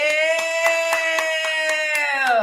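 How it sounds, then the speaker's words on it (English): Rhythmic hand claps, about ten evenly spaced, ring out over a sustained loud tonal drone, fairly close. "Clap for her"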